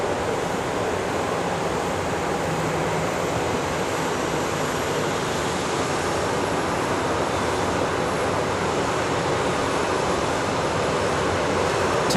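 A Delta Air Lines jet, flight 8936, at Dallas Love Field gives off a constant, loud broadband roar of engine noise, steady throughout with no talking.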